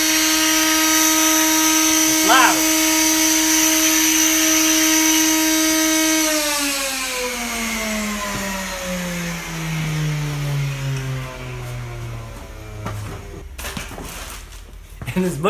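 A second-hand HVLP turbine paint sprayer whines loudly and steadily with a high tonal hum, then spins down, its pitch gliding lower over several seconds before a few clatters near the end.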